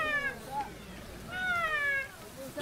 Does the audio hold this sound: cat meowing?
yes